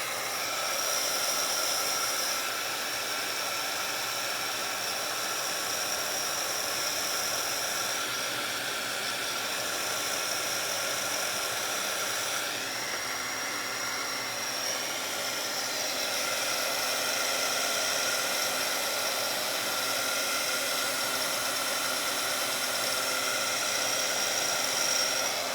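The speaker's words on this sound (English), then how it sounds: "Let's see if my dryer is plugged in here." A hair dryer blows steadily on a wrinkly wet page, a constant loud whooshing whir with a faint high whine that holds evenly for the whole stretch with only slight shifts in tone, and no talking.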